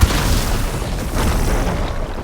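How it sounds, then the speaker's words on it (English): Plasma explosion striking a machine in Horizon Forbidden West, a loud boom at the start that rolls into a dense, rumbling roar for about two seconds. "the machine will be hit with a plasma explosion, the size of which depends on how much damage you were able to do during that window"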